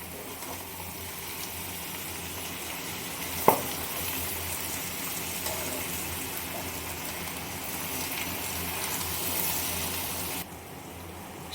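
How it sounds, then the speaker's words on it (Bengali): Chopped spinach and mixed vegetables cook in fish oil in a pan, producing a soft, steady sizzle with light stirring and one sharp clink partway through. "এবারে আমরা কেটে রাখা পালং শাকটা দিয়ে দিচ্ছি। সমস্ত সবজির সঙ্গে পালং শাকটা ভালো করে মিশিয়ে নেব।"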